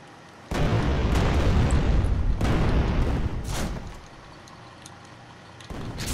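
A Fire spell cast in Kingdom Hearts 2 bursts out as a loud, dense blast lasting a couple of seconds, followed by a second shorter whoosh, then quieter game ambience and a renewed swell at the end.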